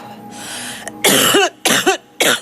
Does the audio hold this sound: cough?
yes